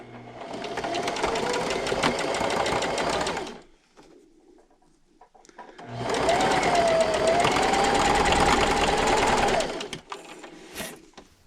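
A sewing machine stitches a straight seam down the middle of the presser foot on a cloth napkin, running in two sustained, steady bursts separated by a short pause, close and loud.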